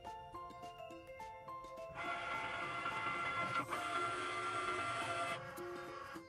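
A Cricut Maker machine cutting a paper flower design on a mat, its steady mechanical whirring starting after a couple of seconds and running loud and continuous before easing off near the end.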